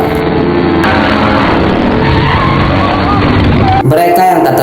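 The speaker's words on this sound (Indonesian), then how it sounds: "Tiba-tiba mereka dikagetkan oleh seorang pengendara motor." A motorcycle arrives suddenly in a scene from the 2021 action film The Protégé, heard as a loud engine rush and tire skid under a steady voice talking over the whole stretch.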